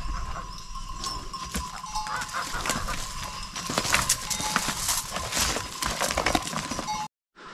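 Farmyard fowl call repeatedly around a chicken house, honking and clucking in bursts near and far over a noisy outdoor background.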